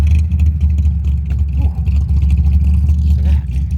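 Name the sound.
classic car engine humming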